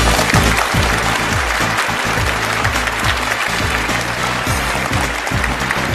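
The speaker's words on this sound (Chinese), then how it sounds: "掌声有请。" Studio audience applause welcoming a guest archaeologist onto the stage of a Chinese book-discussion television show, a steady dense clapping that fills the whole stretch at close range with no speech over it.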